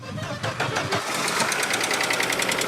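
An Audi car engine starts and settles into a steady mid-pitched running idle, fairly close and continuous, with a rhythmic pulsing chatter through the last half.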